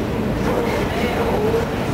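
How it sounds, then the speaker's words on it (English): Inside a moving New York subway F train car, a loud steady rumble of wheels and motors fills the space with continuous rolling noise and no clear pauses. "Well, I'm on the train now. F train."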